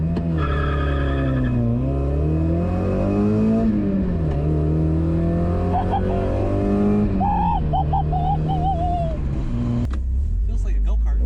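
Mazda Miata accelerating hard through a full pull in Mexico, its engine note climbing steadily in pitch, dipping briefly with gear changes and rising again, loud and close throughout before cutting off near the end.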